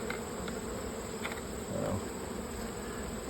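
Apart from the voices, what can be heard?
bees buzzing around hive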